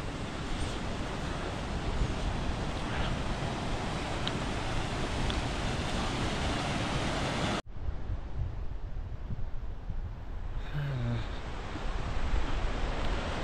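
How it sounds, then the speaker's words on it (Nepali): A mountain waterfall on the trek to Kanchenjunga North Base Camp roars as a dense, steady rushing wash that fills the scene, cutting abruptly partway and continuing slightly softer. "झरना।"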